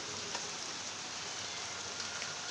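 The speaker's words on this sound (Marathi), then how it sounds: "पाऊस बाई थारा ना." Rain falls in a steady, even hiss, soft and fairly distant, with no voices or other sounds.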